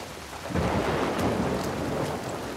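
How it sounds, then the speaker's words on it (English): Rain pours down heavily in a thunderstorm in The Last of Us 2, with steady broadband hiss and a deep low rumble that swells after the first half second and holds loud and near throughout. "The storm is getting worse."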